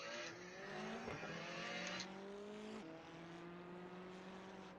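A McLaren 570 race car engine in a racing video game, heard as a steady, sustained drone that shifts pitch, holding throughout with no talk.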